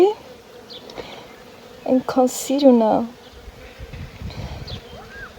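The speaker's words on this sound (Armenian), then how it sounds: "լսում եք չէ մեղուներիս աշխատանքի ձայնը" Steady honeybee buzzing on fruit-tree blossoms drones in the background while a person speaks briefly in the middle.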